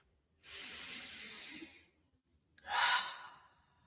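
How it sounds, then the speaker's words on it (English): Two slow, deep breaths close to the microphone, an airy inhale through the nose followed by a longer, louder hissing exhale through the mouth, with quiet between them. "we're going to take in 3 deep breaths in through the nose,"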